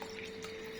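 A short, steady stream of water is poured into a cooking pot for dal, heard close up with a faint ringing tone and no talking.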